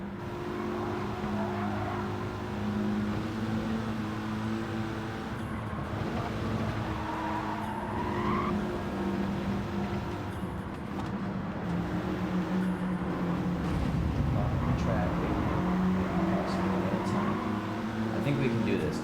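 Race car engine drone and tire noise through corners in Gran Turismo 7, a four-wheel-drive car on soft tires, steady and loud throughout with someone talking over it.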